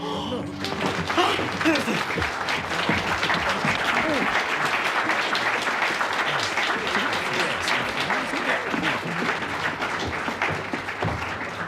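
An audience applauds warmly after a performance, a continuous dense clatter of many hands with murmured voices and scattered cheers mixed in, holding steady throughout.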